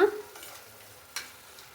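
Coriander powder and spice masala stirred in a hot pan for egg dum biryani, a soft sizzle with a few short scraping stirs, one sharper clack near the middle, fairly quiet and with no talk.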